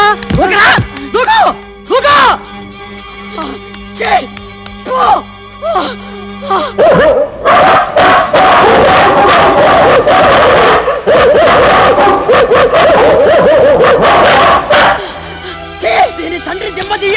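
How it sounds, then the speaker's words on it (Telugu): Stray dogs bark in a loud, rapid series, then the barking gives way to a chaotic burst of shouting and commotion before a few more barks. "అమ్మో అమ్మో పిచ్చి కుక్కలు"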